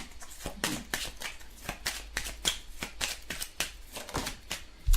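Tarot cards are shuffled in quick bursts of crisp riffling and slapping, close and fairly loud, in a steady irregular rhythm with no talk.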